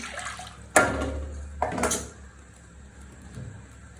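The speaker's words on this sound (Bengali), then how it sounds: "আমি কড়াইতে পানি দিয়ে দিচ্ছি" Water poured into a wok for raw mango chutney makes two short, splashy bursts up close, then fades to quiet kitchen background.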